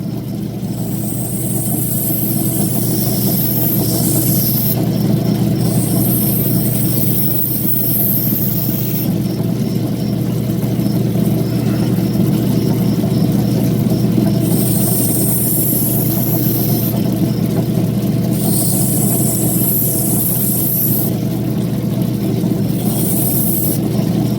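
Steady, loud whirring drone of a lapidary fine wheel grinding crystal opal rough, continuous throughout with a few hissy high-pitched bursts as the stone touches the wheel, no talk.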